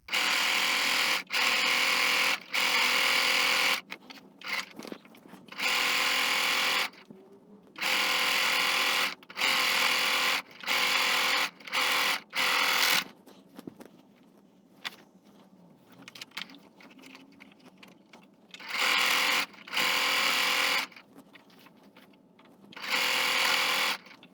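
A sewing machine stitches a Christmas panel quilt border in loud, steady whirring runs that start and stop repeatedly, with short pauses between bursts and no speech.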